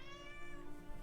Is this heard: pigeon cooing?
no